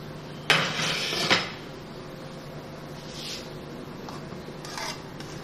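Butter rice being dished out with a utensil, two brisk metallic clatters close by, then softer scraping and a couple of faint taps against a serving dish.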